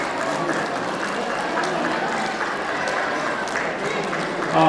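Audience clapping at a Tamu Samaj community gathering in Pokhara, a dense, steady wash of many hands that holds evenly throughout and swells a little at the very end.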